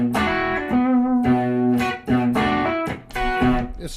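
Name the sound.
electric guitar through a Noble ODR overdrive pedal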